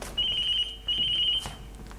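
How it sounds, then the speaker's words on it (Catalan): A mobile phone rings with two short bursts of high electronic trilling, moderately loud, with a faint background and no talking. "Mamen, el mòbil."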